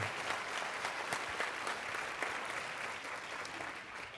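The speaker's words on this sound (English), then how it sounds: "Charles and his folks, give them a round of applause." Faculty audience at a fall faculty conference gives a sustained round of applause, dense and even clapping filling the room throughout at moderate loudness.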